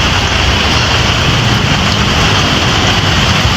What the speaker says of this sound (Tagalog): Pagbaba nga namin, napakalakas ng ulan.